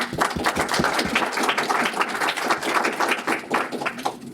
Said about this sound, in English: let's hear it for the panel. Applause